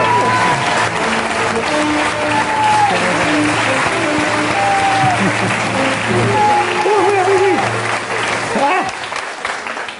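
A studio audience applauds steadily through the whole stretch on a French television variety show, the clapping loud and dense with occasional voices and a little crowd murmur mixed in before it tapers off at the end.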